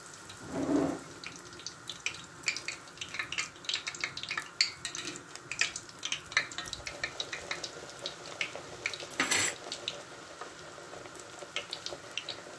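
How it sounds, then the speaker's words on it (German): Langos dough fries in hot fat, a dense steady crackle of tiny pops and spits with a few louder bursts, continuing close up with no voices. "Und dann wird der Langosch einfach nur auf jeder Seite goldbraun ausgebacken."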